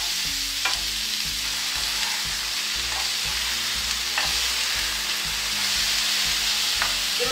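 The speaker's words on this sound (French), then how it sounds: "on va mélanger" A leek omelette frying in a pan, a continuous close sizzle with a few sharp utensil clicks as it is stirred and turned, no speech.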